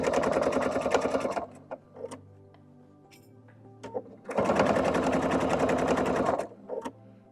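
A sewing machine stitching a quilt seam in two loud, rapid runs of dense mechanical chatter, separated by a pause with light clicks and handling noises in between.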